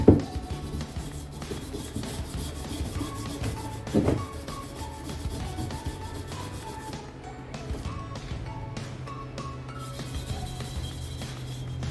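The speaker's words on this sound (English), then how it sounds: "Use my brass brush here and just give it a little scrub." A brass brush scrubbing the bars of a Crossfire Pro plasma water table, a continuous close, gritty rubbing and scraping with faint metallic clinks, moderately loud and steady throughout.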